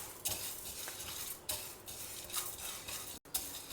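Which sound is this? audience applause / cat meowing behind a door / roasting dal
roasting dal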